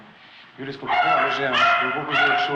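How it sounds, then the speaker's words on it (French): A beagle yips and whimpers in short, high, tonal bursts close by, rising and falling over a couple of seconds while a person talks over it. "j'ai un bigle qui est là"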